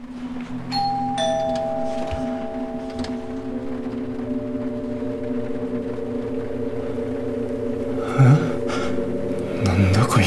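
A doorbell chime rings over and over at an apartment door, its tones overlapping into a sustained ringing, with a man breathing and muttering nearby.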